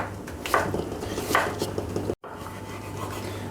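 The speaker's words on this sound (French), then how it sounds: "je vais le couper donc en biseaux" A knife slices a cucumber diagonally on a cutting board for a Greek salad, producing a few soft, separate cutting strokes, close and quiet, followed by a brief dropout.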